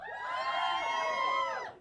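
A comedy club audience, mostly women, lets out a sustained, high-pitched chorus of cheering and whooping that swells and fades over a couple of seconds.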